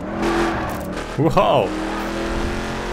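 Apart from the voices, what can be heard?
car engine accelerating, from video game The Crew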